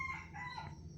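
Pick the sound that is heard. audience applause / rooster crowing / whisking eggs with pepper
rooster crowing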